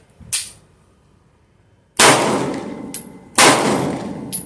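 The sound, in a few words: gunshots hitting a metal target at a shooting range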